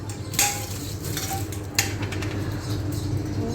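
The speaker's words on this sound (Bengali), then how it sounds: "এবার আমি থালটা ধুয়ে নিলাম" A plate gets washed in a home kitchen, with a steady patter of running water and a few sharp clinks of dishware against the sink, close and fairly loud.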